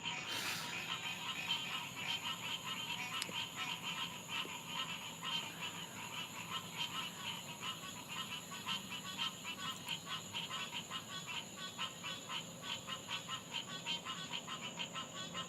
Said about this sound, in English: These frogs are awesome.